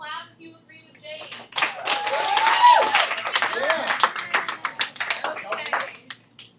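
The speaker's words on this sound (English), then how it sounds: "How many people clap if you agree with Jade?" High school algebra students clap in a classroom to show agreement, scattered claps that build into a dense burst with some sharp taps, mixed with children's voices talking over it.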